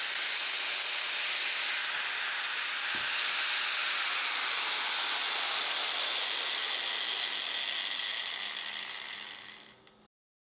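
A repaired angle grinder runs steadily with a loud, bright whine that holds level for about nine seconds, then winds down and cuts off.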